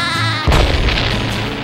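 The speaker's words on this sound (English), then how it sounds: "Explosion." A cartoon explosion lands as a sudden, loud, deep boom that bursts out after a moment of steady sound and then rumbles on, close and filling the clip.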